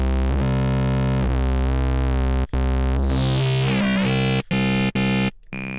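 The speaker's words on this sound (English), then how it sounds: "We have a saw wave. Let's put a bandpass on it." Sustained sawtooth synthesizer tone from Native Instruments Massive run through a bandpass filter, loud and buzzy with rich harmonics, the filter sweeping partway through before a few abrupt cutoffs and brief gaps near the end.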